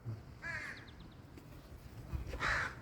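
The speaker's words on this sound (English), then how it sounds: "maybe that's a crow" A crow caws twice outdoors, a harsh drawn-out call near the start and another louder one near the end, over low rumbling background noise.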